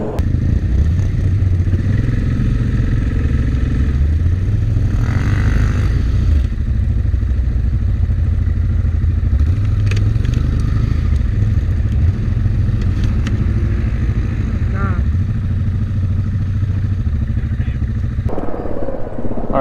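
A Can-Am Renegade XXC 1000 ATV engine runs loud and close on a winter ride in Kansas, a steady rumbling drone with slight rises and falls throughout, cutting off sharply near the end.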